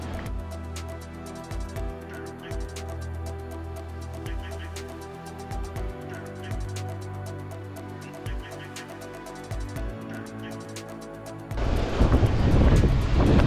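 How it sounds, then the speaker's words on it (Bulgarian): Rough, stormy sea with strong wind on the coast of Thasos island, steady rushing surf and gusts buffeting the microphone, swelling into a much louder, harsher burst near the end. "Малко е бурничко моренцето."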